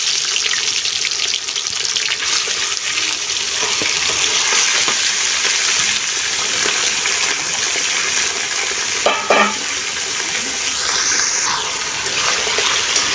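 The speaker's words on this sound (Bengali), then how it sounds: "এই যে মেখে রাখা মাংসগুলো দিয়ে দিচ্ছি।" Marinated beef hisses and sizzles loudly in a pot over a wood-fired village stove, a steady dense crackle running unbroken with a brief clatter of stirring partway through.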